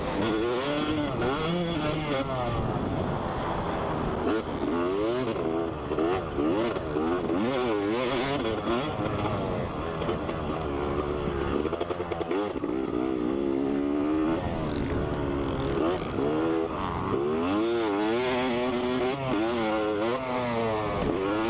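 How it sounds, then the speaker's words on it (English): A 2020 Yamaha YZ250F dirt bike engine revs hard and loud and close, its pitch sweeping up and down again and again in quick, continuous throttle blips. "Right, so this is the 2020 YZ250F. This thing is amazing. It revs to the moon"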